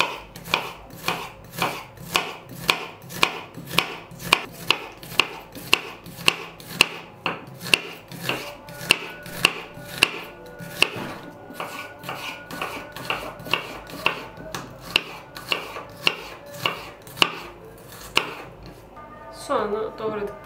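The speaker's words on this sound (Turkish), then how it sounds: "Kuru soğanı jülyen şeklinde doğruyorum." A knife slices an onion into julienne strips on a cutting board, sharp rhythmic taps repeating for most of the clip, close and distinct with brief pauses.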